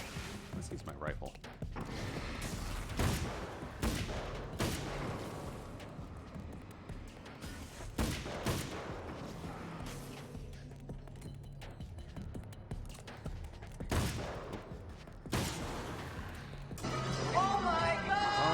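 Rifle shots in a video game fire as sharp, loud single cracks at irregular intervals throughout, mixed with game noise while a voice talks over them.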